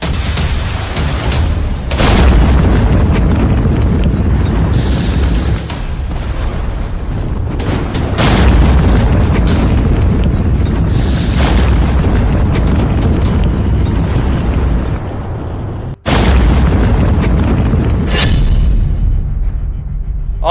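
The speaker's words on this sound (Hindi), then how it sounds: "लेकिन तीसरा ड्रोन फट गया।" Several heavy booming drone explosions, each a sudden loud burst followed by a rumbling decay, recurring every few seconds with no talking.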